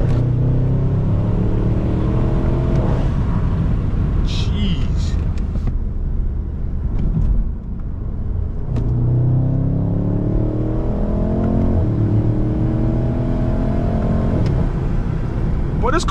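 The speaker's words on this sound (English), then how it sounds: "And this is like stock exhaust. All it has is just a resonated delete, like nothing crazy." A BMW M550i running stock exhaust with the resonator deleted, no downpipes fitted, revs and pulls hard in repeated rising sweeps, a loud deep rumble close by, with a brief lift-off pause midway.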